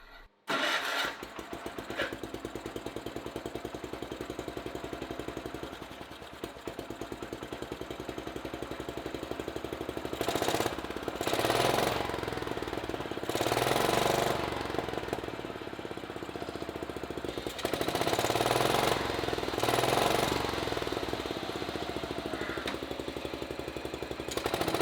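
A 1970s garden tractor engine cranks briefly, catches and settles into a steady putter, running on with a few louder revving surges, heard close inside a shop with no talking.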